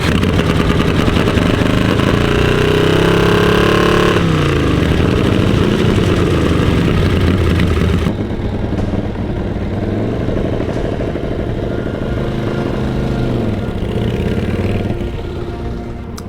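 A 1942 Harley-Davidson motorcycle engine rumbles steadily and loudly at close range, with a shift in tone partway through as it runs on with a rough, throbbing idle.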